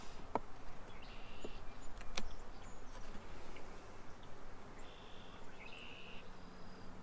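Honey bees crowd an overwintered hive, a steady low buzzing hum filling the scene at moderate level, with a few sharp clicks and brief higher tones over the drone.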